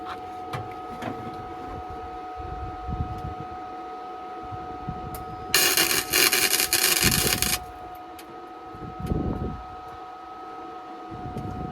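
A gasless MT2002 welder spot welds panels on a 1971 VW Beetle, producing one loud burst of crackling buzz for about two seconds over a steady electrical hum and scattered workshop noise.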